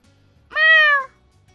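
A single drawn-out cat meow from a video game, one clear harmonic cry of about half a second, loud and alone against a quiet background.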